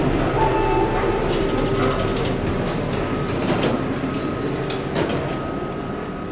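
A Kone hydraulic elevator's doors sliding shut, steady mechanical rumble and rattling with a few clicks and a high whine, heard close inside the car.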